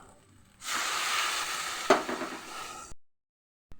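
Steady sizzling of green jackfruit stir-frying with spices in a hot pan, with a sharp clatter of stirring partway through, then the sound cuts off abruptly.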